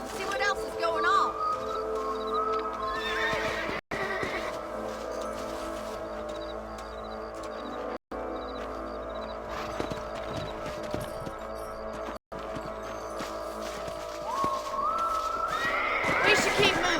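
A horse neighs in the Red Dead Redemption video game, whinnies rising at the start and again near the end over clip-clopping hooves and background game ambience, with brief silent gaps between.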